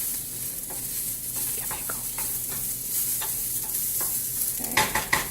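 Rice frying in oil in a pan for Mexican rice, a steady hissing sizzle with scraping stirs of a utensil against the pan, growing briefly louder near the end.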